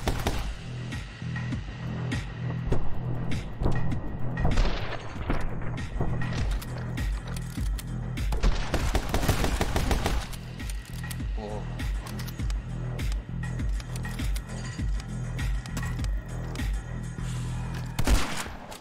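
Shotgun blasts from the action game My Friend Pedro ring out repeatedly amid dense game music and effects, with sharp bursts recurring throughout while a player shouts and reacts over the top.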